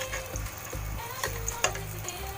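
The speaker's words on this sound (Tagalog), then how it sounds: "ipiprito natin ng sandali yung binating itlog." Beaten eggs frying in a pan, a close, steady sizzle broken by a few soft clicks and taps of stirring.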